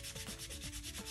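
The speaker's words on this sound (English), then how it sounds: "if you have a little sanding block, you can go ahead and give it a light sand" A small sanding block lightly rubs over a painted rustic craft box, producing quick, repeated close-up scratchy strokes in an even rhythm, fairly faint and without talk.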